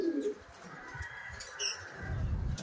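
A red bar racing pigeon comes in at its loft after a 99 km training flight from Candelaria, Quezon, with soft cooing and brief wing flutters over steady outdoor background noise.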